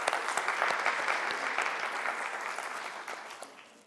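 Audience at a textile symposium claps steadily for about four seconds, dense and fairly loud at first, then gradually thinning and fading out. No one speaks over it.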